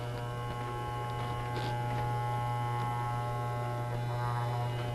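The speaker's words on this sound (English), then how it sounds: "Now I've just closed the clipper up." An electric hair clipper buzzes during a home haircut. It gives a steady, close, unbroken low drone throughout.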